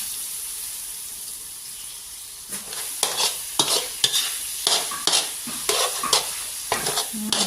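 Pork chili paste is stir-fried in a pan, a soft steady sizzle at first, then a run of close, rhythmic scraping and clacking strokes from a spatula as the mixture is tossed, with no talk.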